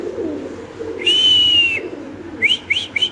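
Two male pigeons call close by: one long sustained whistling coo, then a quick series of short rising calls, over a quiet background hum.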